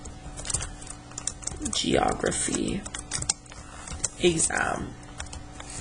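Someone types on a computer keyboard in quick bursts of close, crisp key clicks while a person talks over them.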